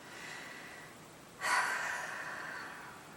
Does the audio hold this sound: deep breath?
yes